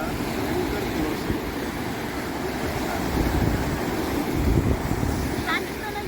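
Steady rushing wash of surf with wind noise, a constant broadband roar that swells slightly midway, heard close and loud with no voices.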